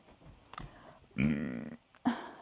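A woman's burp, a long drawn-out belch with a strong voiced rumble, followed by a shorter second burp, preceded by faint mouth noises and no speech.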